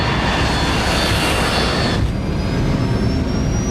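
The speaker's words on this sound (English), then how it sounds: "The plane takes off from Stansted Airport at 6:36 p.m." A Korean Air cargo jet, Flight 8509, roars down the runway at Stansted Airport on takeoff in 1999, loud and sustained jet engine noise that shifts in tone partway through, with no talking.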